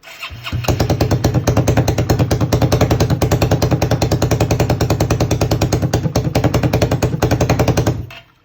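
A 1996 Suzuki Quad Runner 250 single-cylinder thumper idling very loudly with no exhaust or air filter, fast and sharply pulsing and close, running steadily for about eight seconds before dying away.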